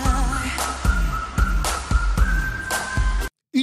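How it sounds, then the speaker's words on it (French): A bright whistled melody hook in a French Eurovision song repeats over a thumping beat, the short phrase looping rhythmically before cutting off abruptly. "Un petit sifflotis pour un gimmick qui reste bien en tête."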